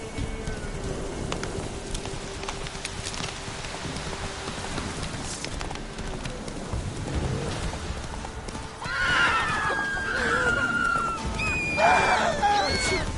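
Roach, Geralt's horse in The Witcher 3, gallops with rhythmic clip-clop hooves over rain and ambience, then neighs loudly several times in the second half, close and clear.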